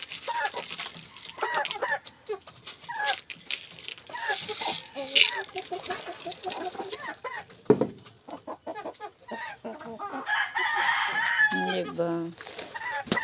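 Rhode Island Red chickens cluck and call close by in a farmyard, with one crowing near the end, while a person talks briefly among them.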